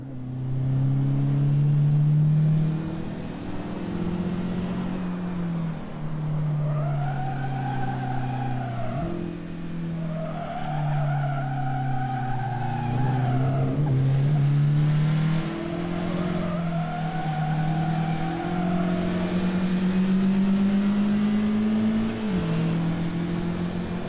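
Race car lapping Canadian-style road course CMP during practice for a NASA weekend, its engine droning steadily close up with rising and falling revs through braking, lifts and corners, with no talk.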